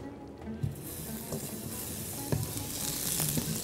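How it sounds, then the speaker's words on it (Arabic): Butter sizzles in a pan on the stove, heard up close as a continuous, crackling fry. A few soft knocks and scrapes from stirring fall on top of it, and nobody speaks. "نحط الزبده بتاعتنا كده"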